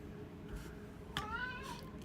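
A domestic cat gives a single rising meow midway through, fairly clear over a low steady room hum in a kitchen, with no talk over it.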